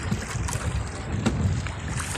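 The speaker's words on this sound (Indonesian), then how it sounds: "angin tidak bersahabat," Strong wind gusts on the shore of a beach during fishing, a rough buffeting rush that batters the microphone with low rumbling and occasional sharper bursts, continuous and close.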